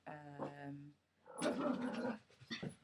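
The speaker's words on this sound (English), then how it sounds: "Knew the dogs would bark their heads off." Several dogs barking and yipping nearby in a home, a short burst of barks and whimpers after a pause, mixed with a person speaking.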